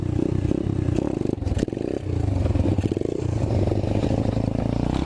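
An Apollo 125cc dirt bike revving hard for a wheelie, a loud, close, rough engine roar with clattering and a brief throttle dip before surging again, no talk.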